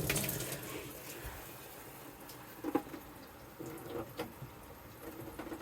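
Water runs steadily from a shower tap in a house on a well after a pressure switch replacement, a broad close rushing hiss with a few splashes and clanks.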